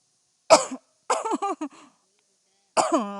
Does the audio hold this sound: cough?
yes